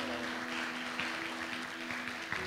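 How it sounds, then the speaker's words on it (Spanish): A congregation claps for a brother at a church Bible teaching session, a soft, fairly distant patter running steadily throughout, with a faint steady hum underneath. "un aplauso al hermano"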